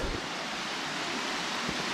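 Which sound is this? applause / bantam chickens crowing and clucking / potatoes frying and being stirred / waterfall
waterfall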